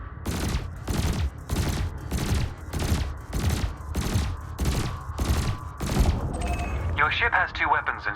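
Ship weapons in Elite Dangerous fire at canisters in a steady rhythm of about ten heavy, evenly spaced blasts, loud and close, ending with a brief higher-pitched electronic chirping.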